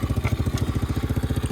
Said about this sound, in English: this is a 4-stroke engine, and it does have a carburetor